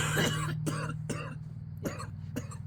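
A man coughs several times in short, separate bursts over a low steady hum, the first cough the loudest.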